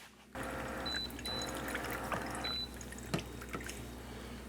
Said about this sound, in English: Let me get a little water.